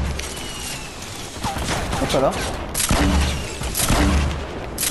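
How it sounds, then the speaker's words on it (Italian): Grenade launcher fire in a video game, a rapid string of heavy booming blasts and explosions that blur into a dense barrage, with a person's voice briefly heard over the gunfire. "spamma le lanciagranate."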